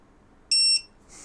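A single sharp, high electronic beep from Flywoo Explorer LR 4-inch drone electronics sounds for about a quarter second in quiet surroundings, followed by a faint hiss.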